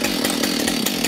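A heavy chainsaw cuts steadily into a wood sculpture, loud and close with a continuous buzzing roar and slight rhythmic pulsing, with no voices.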